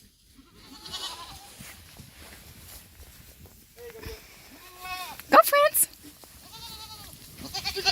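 A goat bleats a few times in short wavering cries in snow, mixed with a person calling out and some rustling nearby.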